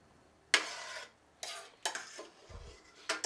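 A spoon scooping sausage and sauce in a pan, a few quiet scraping strokes separated by pauses, with a soft dull knock partway through, close but faint and without talking.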